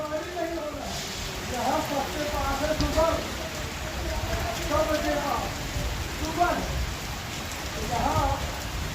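Steady rain patters on a surface throughout, with people talking intermittently over the continuous downpour.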